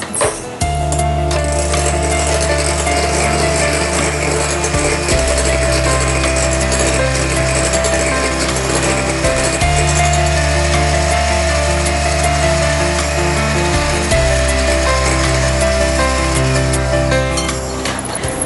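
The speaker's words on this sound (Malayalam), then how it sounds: "അപ്പോൾ മുട്ട നന്നായിട്ട് പതച്ച് റെഡിയാക്കി വെച്ചു" Eggs with vanilla essence are beaten in a bowl, making a loud, steady whirring drone that shifts slightly every few seconds, with no talk.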